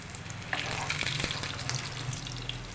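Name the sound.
fish kabab frying in oil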